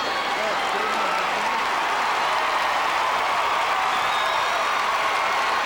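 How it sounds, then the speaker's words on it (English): A large arena crowd applauds steadily through a women's team final at a world gymnastics championship, a dense, continuous wash of clapping and cheering with no gaps, loud and constant from start to finish. "And listen to the crowd."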